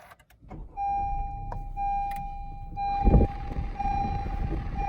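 A 2019 Honda Civic Si Coupe with a manual gearbox starts up: a short electronic chime and a sustained tone lead into a burst of cranking, then the engine settles into a steady idle, heard from inside the car.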